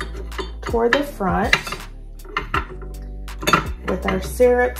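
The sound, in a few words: glass syrup bottles with brass pour spouts set on coffee bar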